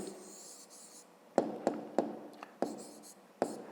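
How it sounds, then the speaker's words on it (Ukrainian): Pen strokes write out a math answer on paper in a few short, sharp taps and scratches that come about half a second apart in a quiet room. "Отже, пишемо відповідь."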